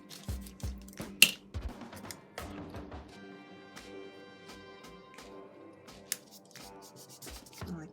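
Scissors fussy-cut paper pieces for a mini planner page, a series of short crisp snips and paper rustles, close and quiet with no talking.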